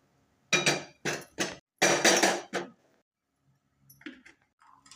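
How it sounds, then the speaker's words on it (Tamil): A pressure cooker is set down on a stove while wheat rava pongal is being made, giving several sharp metallic clanks and knocks in quick succession, followed by fainter light clinks after a short pause. "அடுத்தது ஒரு குக்கரை வச்சுக்கலாம்"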